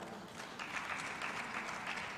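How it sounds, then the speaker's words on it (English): Audience at a women's conference in Lusaka, Zambia claps for an honoured woman guest; a soft, distant wash of applause that swells slightly after a moment and holds steady. "Please, a round of applause to her."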